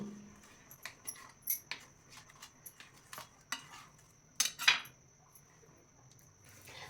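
Knife blade pressing and clicking against a tray while milk and poha barfi is cut into square pieces, a run of soft, close taps and scrapes with a couple of sharper metallic clinks.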